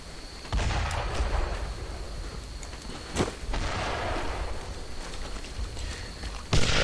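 Gunfire in the WWII shooter Brothers in Arms, with sharp shots cracking over a loud, rumbling battlefield din and a couple of heavier bursts, near and continuous.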